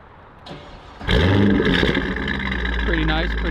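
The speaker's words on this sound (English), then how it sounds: "So, here's what the car sounds like with a warm start." A 2004 C5 Corvette fitted with a Corsa Extreme axleback exhaust fires up from a warm start: a brief starter whir, then a sudden loud catch and rumble that settles into a deep, steady idle close by.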